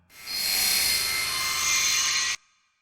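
Helicopter in the video game Deadly Premonition, a loud, steady rotor roar with a bright high-pitched whine that holds for about two seconds, then cuts off abruptly into quiet.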